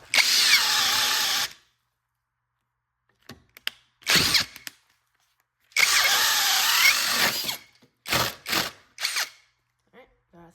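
Mellif cordless drill on speed 2 boring a 1 1/8 inch hole, running loud and near in two long bursts that cut off as it stalls, with short restarting whirs and clicks in between.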